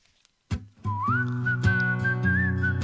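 A singer whistles a clear, sustained melodic line in a song recording, bright and close over low sung vocal harmony, entering after a brief silence.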